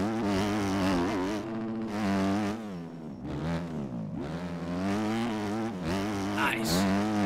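Honda 250 motocross bike engine in the MX Bikes racing game, revving and shifting through gears on a dirt track with big jumps. A loud, continuous buzzing drone rises and falls in pitch throughout.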